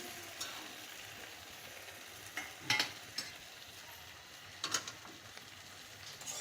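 Taro stolons frying with kasundi mustard in a pan, a faint, soft sizzle broken by a few brief scraping stirs of a spoon.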